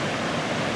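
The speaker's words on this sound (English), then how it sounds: "This is the largest waterfall, as we said, in southern Minnesota." The largest waterfall in southern Minnesota roars in a constant, loud, broadband rush of falling water, heard close up with no voices.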